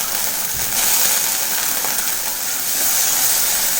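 Manathakkali berries frying in oil give a steady, close hiss and sizzle that runs unbroken throughout, with no talk over it.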